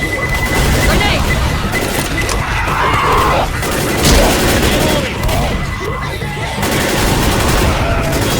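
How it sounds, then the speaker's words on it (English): Continuous battle din from a zombie shooter game, Left 4 Dead, with dense gunfire, crashes and a booming grenade blast around the middle, all under steady loud combat noise with no clear talk. "Grenade incoming!"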